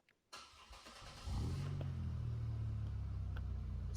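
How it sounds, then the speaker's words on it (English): A V6 Mustang engine in the Roblox video game cranks and catches, then settles into a steady low rumbling idle that holds close and loud for several seconds, with no talking. "you just hear this engine sound with the V6 Mustang"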